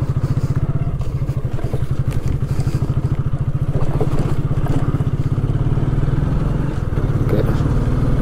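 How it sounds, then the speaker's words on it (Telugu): A motorcycle on a mountain road in Ladakh sputters with a rapid, steady mechanical chugging and clatter, close and loud, as it fails to start, with faint voices in the background. "బండి స్టార్ట్ అయితే లేదు"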